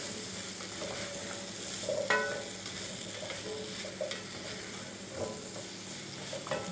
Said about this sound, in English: I'm just going to mix this in here well and just cook it for about a minute.